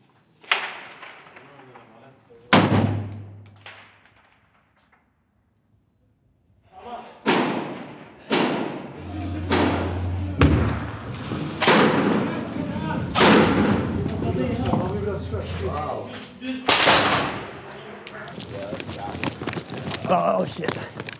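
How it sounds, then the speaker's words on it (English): Gunfire in an urban battle for Raqqa, Syria: a sharp close shot, then a lull, then a dense run of loud cracks and heavy thuds echoing off buildings, with agitated voices speaking over the shooting. "They're shooting from down."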